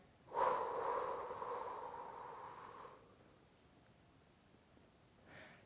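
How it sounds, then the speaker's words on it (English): Loud, exaggerated breath during a pelvic floor breathing exercise: one long forceful breath lasting about two and a half seconds, followed by a brief softer breath at the end. "now I breathe kind of loudly just to give emphasis"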